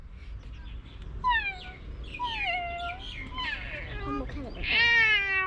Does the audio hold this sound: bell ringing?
no